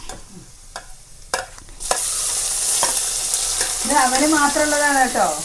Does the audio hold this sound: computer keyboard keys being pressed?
no